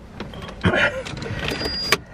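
Electric windows on a Vauxhall Zafira 1.8 Elegance whir briefly as a motor drives the glass, a short close mechanical hum with a small knock at start and end.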